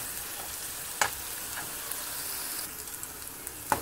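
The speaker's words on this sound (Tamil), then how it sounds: "தட்டி வச்ச இஞ்சி பூண்டும் ஆனியன் பேஸ்ட்டும் சேர்ந்து நல்லா ஒரு மீடியம் ஃப்ளேமில் இன்னும் ஒரு 5 to 10 minutes கொஞ்சம் கலர் சேஞ்ச் ஆகிற வரைக்கும் நல்லா பொரிய விடுங்க." Ginger, garlic and onion paste frying in a pan over medium flame, a steady close sizzle with occasional louder crackles and stirring scrapes, no talk.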